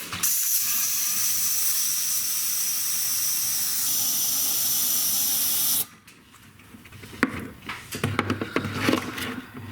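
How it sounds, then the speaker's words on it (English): Compressed air blasts through a car's transmission cooler during a home flush, giving a loud, steady hiss for about six seconds. The hiss cuts off abruptly, followed by faint rattling and handling noises. "I'm going to just blow compressed air through one more time"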